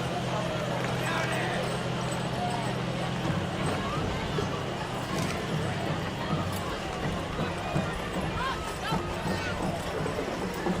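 Parade horses clop along the street at a summer festival, a dense, steady patter of hooves under continuous crowd babble and commentary.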